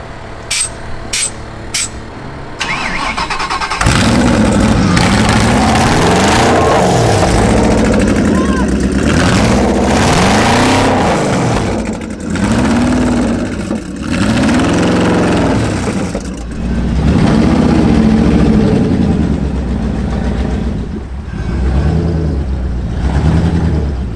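A concept car's engine revs repeatedly, rising and falling in pitch in several sweeping bursts at close range, loud and rough over a constant background roar.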